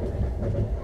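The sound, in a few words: train running on rails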